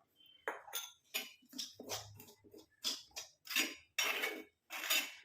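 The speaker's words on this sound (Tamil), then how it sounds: "இப்போ நம்ம எடுத்து வச்சுருக்க டிகாஷனை கொஞ்சம் கொஞ்சமாக ஊற்றி மிக்ஸ் பண்ணிக்கலாம்" Herbal hair pack being stirred in a bowl as decoction is poured in, a run of light clinks and scrapes of a spoon against the bowl at a steady rhythm, close and fairly quiet.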